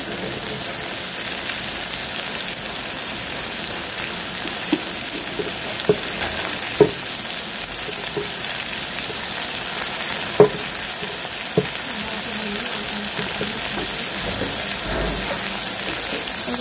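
Egg curry spices, with cumin powder, salt and ginger-garlic paste, sizzle steadily in a hot pan while a spoon stirs them, giving a few sharp scraping clicks over a constant close frying hiss.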